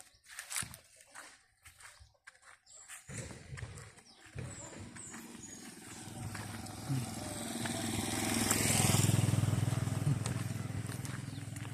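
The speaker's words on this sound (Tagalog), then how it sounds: "Nakakailang mag-video, ang daming dumadaan na motor." Motorcycles pass along a village road in Zone 4, Bulilacao, engines droning as they approach and peak loudly near the end, with footsteps and outdoor ambience and a voice heard briefly early on.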